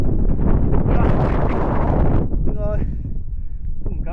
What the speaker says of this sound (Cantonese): 放飛機喺度，太大風啊！